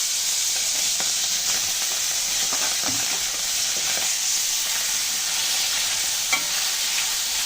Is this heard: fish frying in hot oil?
yes